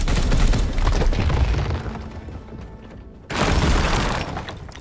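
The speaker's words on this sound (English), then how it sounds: "how about knocking down a statue on top of your enemy?" A stone statue topples and crashes down in the Warhammer 40k Chaos Gate Daemonhunters game, a loud booming impact with crumbling rubble, then a second heavy crash after a brief lull.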